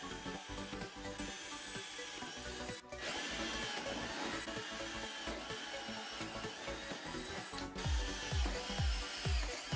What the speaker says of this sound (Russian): Сначала сверлим тонким сверлом, чтобы задать направление, а затем уже рассверливаем сверлом побольше.